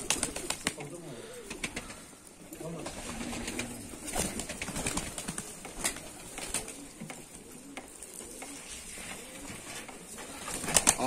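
Pigeons coo softly and repeatedly in the background, with rustling, wing flaps and people talking nearby throughout.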